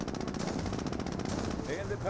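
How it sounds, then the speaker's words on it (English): A P-47 plane makes a strafing run in the video game Company of Heroes, with a continuous loud rattle of rapid machine-gun fire that lasts the whole stretch, heard with faint voices. "that is the MG P-47 strafe run"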